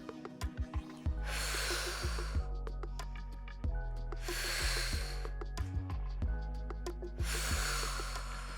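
Forceful breaths pushed out during a glute bridge exercise, three long hissing exhales spaced a few seconds apart over steady background music, close and fairly loud.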